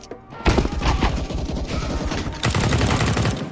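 Automatic gunfire from CS:GO sounds in two loud, dense bursts of rapid shots, with a brief pause between them.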